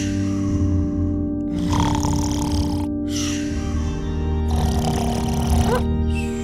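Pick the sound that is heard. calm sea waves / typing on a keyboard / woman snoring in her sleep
woman snoring in her sleep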